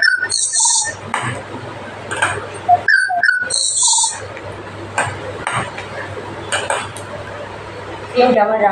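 Snack ingredients mixed by hand in a bowl in an open home kitchen: irregular clinks and scrapes of utensils against the dish, close and fairly loud, with soft handling rustle between bursts.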